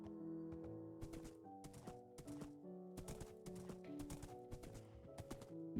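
A horse in a Minecraft-style survival game clip-clops with a steady run of hoof beats over a layered music background, fairly quiet and without talk.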